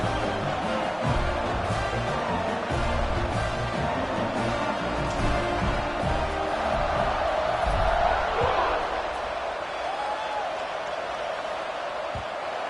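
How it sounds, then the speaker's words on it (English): A football stadium crowd at a Penn State versus Texas game roars in a dense, continuous buzz after a score, loud and steady before easing slightly toward the end. "this crowd is buzzing after that last score"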